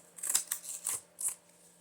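Scissors cut through a book cover along its fold, several quiet, close crisp snips spaced apart in a quiet room.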